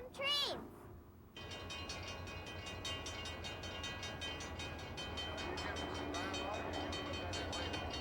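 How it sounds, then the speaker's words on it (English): A passing train, with steady rumbling rail noise and a regular clacking rhythm of wheels over track joints that runs continuously and fairly loud. A short squealing horn or whistle-like tone sounds at the very start. "Today, we're gonna look at some awesome trains."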